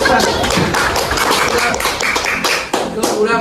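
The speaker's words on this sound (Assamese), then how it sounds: "তো তালি দিয়া, তালি দিয়া।" A small group claps hands during a home juice-guessing game, a quick, loud, uneven patter of claps close by, mixed with voices and laughter.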